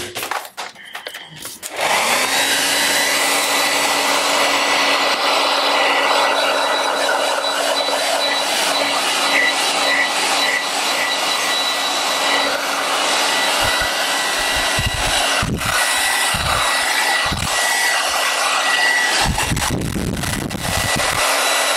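A hair dryer switches on and blows steadily at close range for most of the clip, drying paint on an artwork, then cuts out near the end amid a few soft handling knocks.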